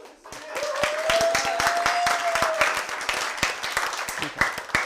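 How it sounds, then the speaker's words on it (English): Scattered clapping from a modest audience at a sustainability pitching event, the individual claps sharp and uneven, with a brief tone and some background talk running through. "Give a round of applause"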